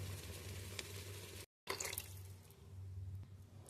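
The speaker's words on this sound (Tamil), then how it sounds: "தண்ணி கொஞ்சம் நிறையா சேர்த்துக்கலாம்," Water poured from a vessel into a pot of tomato sambar, a brief splashing trickle that stops and resumes after a short cut, faint and close with no speech.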